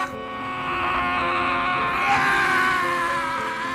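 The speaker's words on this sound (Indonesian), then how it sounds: "mengajaknya berteriak demi melepaskan semua beban yang selama ini hanya terpendam di hatinya." People shout and scream loudly together at an open mining area outdoors. One sustained, strained, voiced cry carries for several seconds without a break.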